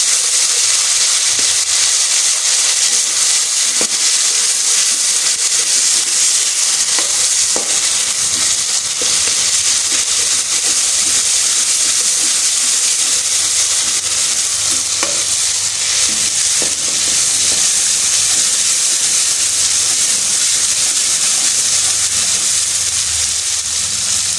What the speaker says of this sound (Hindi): अदरक लहसुन का पेस्ट अब इसमें भूनेंगे धीमे आंच पे